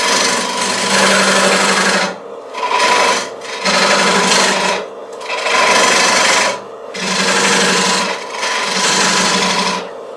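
Woodturning gouge cutting a tenon on a small walnut bowl spinning on a lathe: loud rasping scrapes come in repeated bursts of a second or two, separated by short pauses, with no speech.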